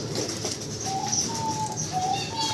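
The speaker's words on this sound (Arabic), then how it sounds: "هذا افراخ حمام يا كريم" Pigeon chicks in a loft, soft low cooing with a few thin high-pitched calls over steady background noise, close and faint.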